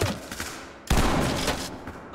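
Shotgun fire in the tactical shooter game Ready or Not, blasting through wooden walls: a loud, close blast with a rumbling tail, then a second heavy burst just under a second later that rings on.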